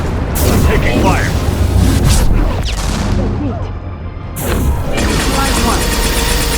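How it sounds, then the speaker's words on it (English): Heavy gunfire and booming blasts in a Mass Effect 2 combat firefight, loud and continuous with dense rattling bursts, briefly easing before picking up again, with voices speaking over it. "Taking fire."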